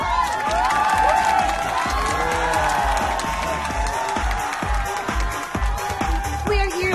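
A large crowd at the Newport Performing Arts Theater in Manila cheering and shouting loudly and continuously, with whoops and excited voices mixed through the roar.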